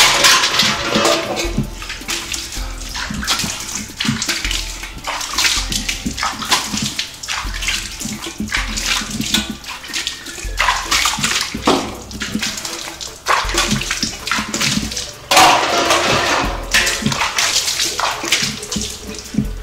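Water splashes and pours steadily into a brass pot, with sloshing and clanking as the metal vessel is rinsed, continuous throughout.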